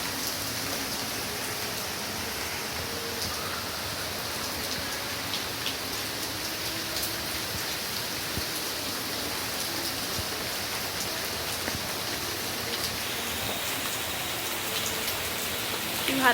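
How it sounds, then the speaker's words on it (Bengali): Heavy rain falls steadily, a dense even hiss of drops on surfaces that continues unchanged throughout. "বৃষ্টি পড়ছে ভালো"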